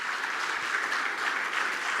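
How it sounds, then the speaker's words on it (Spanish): A church congregation claps for the Lord in sustained, dense applause, a steady even wash of many hands filling the room throughout with no pauses. "Dale un aplauso al Señor."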